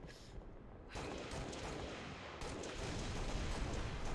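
In a Halo 2v2 tournament match, game gunfire and explosions blast in dense, loud bursts, with a heavy boom partway through that thickens the barrage.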